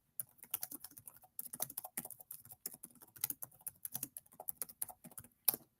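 Rapid typing on a computer keyboard, close and crisp, bursts of quick key clicks broken by short pauses, with a louder final keystroke near the end and no voices.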